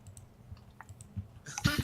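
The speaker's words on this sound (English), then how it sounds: "Clicking on things on my end." Computer mouse clicks from someone playing a dungeon-crawler game, a few faint taps spread out, then a louder burst of clicks near the end.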